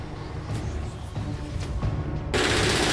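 Bursts of rapid automatic gunfire rattle continuously at a distance during a combat ambush in Gaza, growing into a louder, denser volley near the end.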